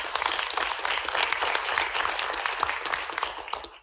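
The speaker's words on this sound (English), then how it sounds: "Let's give Libby a nice round of applause" At a school board of education meeting, a room of people applauds a newly welcomed staff member with steady, dense clapping that holds for nearly four seconds before fading out.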